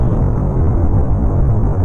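Falcon 9 first stage firing its rocket engine for the landing burn, a dense low roar and rumble that holds steady and loud throughout the short span.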